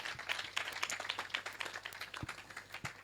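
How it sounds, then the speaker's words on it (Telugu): A congregation clapping together in a church service, a quick, fairly even run of claps that sounds somewhat distant and soft, with no talking over it. "నమ్మిన వాళ్ళు గట్టిగా చప్పట్లు కొట్టండి."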